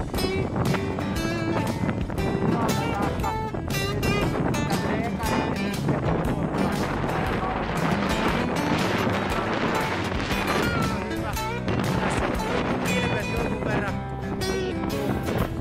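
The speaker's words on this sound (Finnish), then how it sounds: "Tuuli on vieläkin aika kova." Heavy mountain wind on Mont Blanc batters the microphone in a constant, loud roar with sharp gusty thumps throughout.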